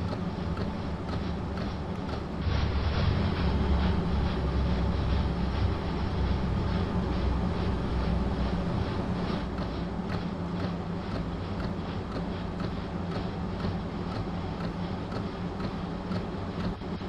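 Train in Train Sim World 2 on the Arosa Line, a steady low rumble of running gear with faint rhythmic clicks building as it approaches, loud and continuous throughout.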